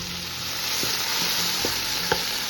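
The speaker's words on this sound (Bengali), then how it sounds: "প্যানে আমি অর্গ্যানিক কোকোনাট অয়েল গরম করে মাছগুলোকে একটু লাল লাল করে ভেজে নেব" Fish frying in hot coconut oil, a steady sizzle and constant hiss with a few soft clicks and pops from the pan.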